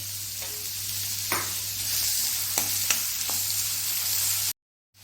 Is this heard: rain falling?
no